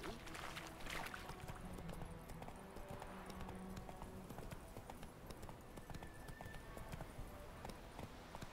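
Horse hooves clip-clop in a steady galloping rhythm in The Witcher 3, moderately close and continuous, with a brief spoken voice over the hoofbeats.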